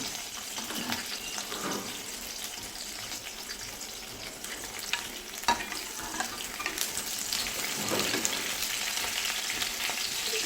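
Potatoes and cut flat beans fry in a pan with a continuous, moderately loud sizzle and occasional clatters of stirring, growing a bit fuller toward the end.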